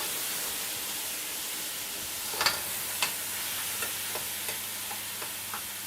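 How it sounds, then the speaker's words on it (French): Onions sauté in a pan with a soft, constant sizzle, broken by a few sharp clicks and taps of a utensil against the pan. "on fait un peu Revenir les oignons"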